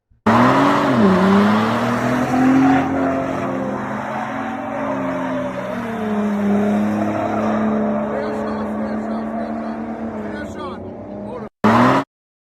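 A pickup truck driven fast around the Talladega NASCAR track by a NASCAR driver on a pace-car ride, heard from inside: a loud engine roars and shifts pitch with squealing tires, steady until a brief cutoff near the end.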